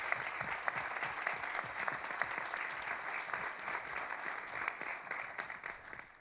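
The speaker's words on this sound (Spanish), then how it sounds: "necesitan un aplauso" An audience at a public talk in Monterrey applauds, a dense, even patter of many hands clapping at moderate distance, sustained for about six seconds with no voices on top.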